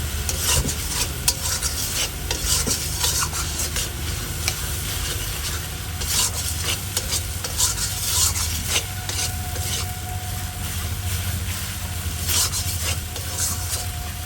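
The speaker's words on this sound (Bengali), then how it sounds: "এখন ভালো করে কষিয়ে নেব" Jackfruit and prawn curry with turmeric powder being stirred and sautéed in a pan: a steady sizzle with repeated scraping, rubbing strokes of the spoon throughout, close and fairly loud, with no talking.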